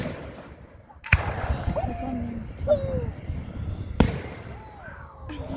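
Fireworks at a big show: two sharp, loud bangs a few seconds apart, with whistling and crackling in between and faint voices in the background.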